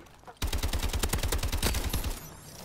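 Rapid automatic gunfire from a weapon in the video game Call of Duty: Advanced Warfare, a sustained burst of evenly spaced loud shots lasting about a second and a half after a short quiet lead-in.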